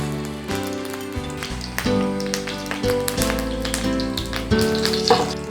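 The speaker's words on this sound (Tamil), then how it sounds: "எண்ணெய் காய்ச்சதும் கடுகு உளுத்தம் பருப்பு போட்டுக்கலாங்க" Mustard seeds and urad dal crackle and splutter in hot oil while a savoury kozhukattai tempering is made, a steady close-up sizzle with dense popping and no talking.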